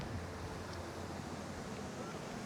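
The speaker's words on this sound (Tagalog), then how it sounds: "ang lakas ng hangin" Steady, roaring gusts of strong wind on a hilltop near the Pililla wind turbines buffet the microphone in a continuous low rumble, with no pauses and no voices.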